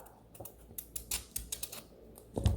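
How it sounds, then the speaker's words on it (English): A knife cuts through a raw potato on a cutting board at home while making Spanish tortilla, giving a run of short, close, crisp chops and taps with a heavier thud at the end. "So you get your potato, cut it in half,"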